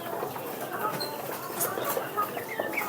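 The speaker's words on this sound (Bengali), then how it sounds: "অনেকগুলো মোরগের বাচ্চা হয়েছে, এতগুলো মোরগ রাখবো না।" Native hill chickens and their chicks clucking softly, with scattered faint peeps and short calls over low background noise, no voices.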